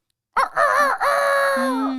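A person mimics a rooster crowing with one loud, close, drawn-out cock-a-doodle-doo that rises and then holds a long wavering tail.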